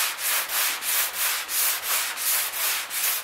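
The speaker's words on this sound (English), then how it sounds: "if things are fighting me, then I like to turn to my block sander, my long one" A long block sander is worked across the body of a 1986 GMC pickup during restoration, producing about ten even, rhythmic back-and-forth scraping strokes, close and steady.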